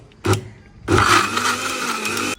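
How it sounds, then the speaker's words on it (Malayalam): A kitchen mixer grinder grinds curry masala into a thick paste, with one short whirring burst followed by a loud, steady motor drone that continues to the end. "ഇത് മിക്സിയിലിട്ട് അരക്കാണ് കണ്ടോ"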